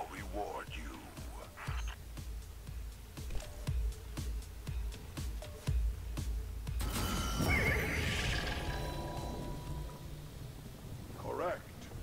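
The celestial horse in Destiny 2's Dares of Eternity whinnies at the start and again at the end, with rapid clicking like hooves and a swelling, rushing game effect in between.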